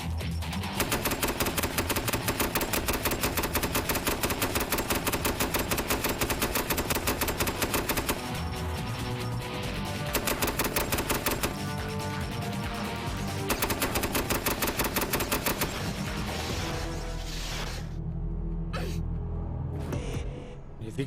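Rapid automatic gunfire from an enemy in a video game, loud, dense bursts lasting many seconds with brief pauses, tapering off near the end.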